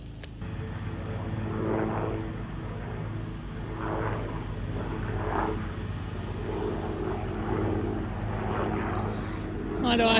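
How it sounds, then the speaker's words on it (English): Helicopters drone steadily overhead throughout, the day after a cyclone, with a person talking nearby over the noise. "There's lots of people in helicopters flying past."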